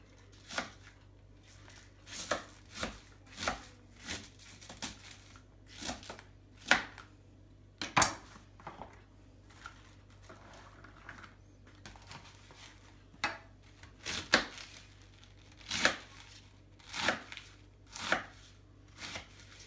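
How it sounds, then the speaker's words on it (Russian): A knife chops cabbage on a board while making cutlets: a steady run of sharp, close taps in quick bursts, loud and alone with no talking. "Сейчас, да, сейчас буду резать капусту."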